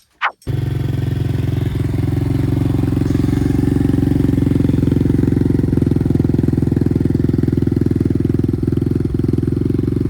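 An Apollo RXF 125 dirt bike fitted with a new exhaust idles loud and close after a brief blip at the start. Its steady, even engine note holds throughout.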